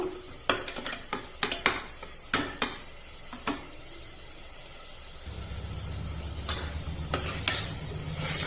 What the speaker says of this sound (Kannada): ಈಗ ಟೊಮೆಟೊ ಮತ್ತು ಪೇಸ್ಟು, ಶುಂಠಿ ಬೆಳ್ಳುಳ್ಳಿ ಪೇಸ್ಟು ಎಲ್ಲ ಚೆನ್ನಾಗಿ ಹುರಿಯೋಣ. ದೊಡ್ಡ ಉರಿ ಇಟ್ಕೊಂಡು ಹುರಿಬೇಕು.